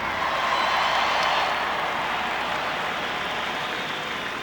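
A stadium crowd at a 2004 World Series game applauds a singer, a steady, broad roar of clapping and cheering that holds evenly throughout and eases slightly toward the end.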